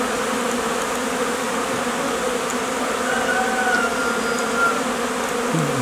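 Honeybees buzz around a beehive in February, a steady dense hum of many insects close by, with no voices.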